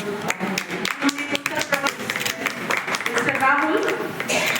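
Audience clapping at a college seminar on character building, a dense patter of many hands under speech-like chatter, steady and fairly loud across the whole stretch.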